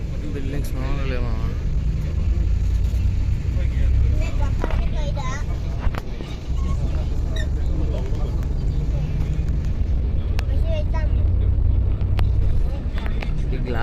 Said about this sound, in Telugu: ఇంత మధ్యాహ్నం కూడా ఫుల్ ట్రాఫిక్ ఉంది.